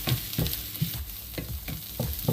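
Onions sauté in a pan for cherupayar thoran with a soft, continuous sizzle, broken by rhythmic scraping taps of a spoon stirring at a steady pace about every half second.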